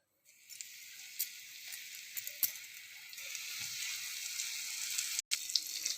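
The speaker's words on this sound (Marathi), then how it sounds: "आता तव्यावर तेल घालून त्यामध्ये मासे तळायला ठेवायचे आहेत." Surmai fish fries in oil on a tawa, giving a faint, even sizzle that begins after a brief silence and continues with scattered light crackles and a short dropout near the end.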